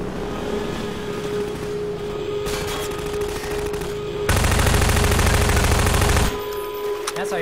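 Rapid automatic gunfire in Half-Life 2 during a boat sequence, over a steady engine drone, with a loud, dense burst of shots in the middle of the clip.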